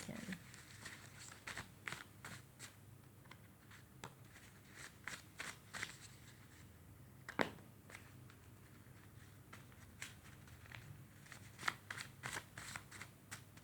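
Tarot cards shuffled by hand in repeated quick riffles and flutters, soft and close, with faint background hum and no talk.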